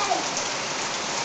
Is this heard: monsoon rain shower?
yes